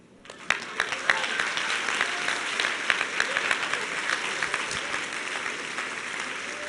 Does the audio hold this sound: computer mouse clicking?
no